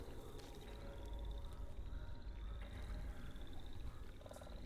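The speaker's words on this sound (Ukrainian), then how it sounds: "В неї в будинку які ж джунглі, жаби квакають" Frogs croak softly in a dense, faint chorus inside an overgrown house in the Alone in the Dark video game, layered over a low rumbling ambient background with a few high repeated calls.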